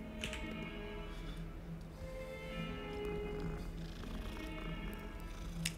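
Continuous purring from a cat in the game Hogwarts Legacy, a low steady rumble at moderate loudness with faint game ambience and a few light ticks, no voices.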